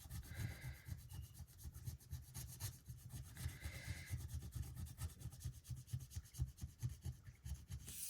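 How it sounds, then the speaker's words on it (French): Quiet, close scratching as a coin or fingernail rubs the scratch-off panel on a card, a fast rhythmic rasp of many short strokes, with no speech. "il me reste plus qu'une pastille à gratter"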